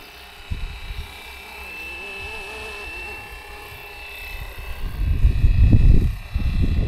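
Bell 206 helicopter flying overhead while searching for a landing strip, heard as a steady whine and rotor drone that swells near the end into louder, buffeting low rumble, as if wind is hitting the microphone.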